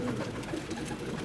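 Pigeons at a pigeon farm raising high-flyer birds give a brief, soft coo, faint and somewhat distant against low background noise.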